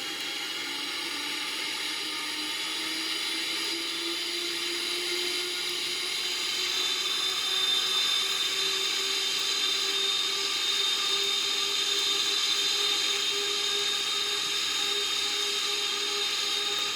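Twin jet engines of a Boeing 777-300ER spool up for departure, a steady loud whine and broad roar that climbs gradually in pitch and holds strong, with no voices over it.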